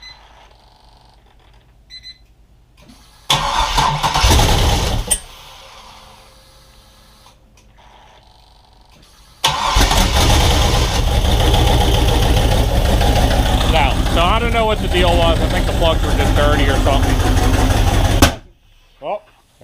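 A turbocharged V8 engine swapped into a Datsun 720 pickup cranks briefly, then fires and settles into a loud, steady idle that runs for several seconds before cutting off.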